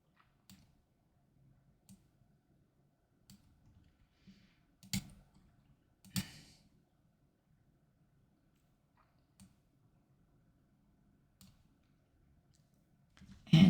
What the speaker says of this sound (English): And I'll just click outside just to see how that looks.